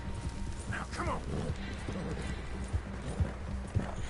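Horse hooves clopping while riding in Red Dead Redemption 2: a soft, steady rhythm of hoofbeats under a quiet game soundscape, with a voice speaking over it.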